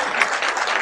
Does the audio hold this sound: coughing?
no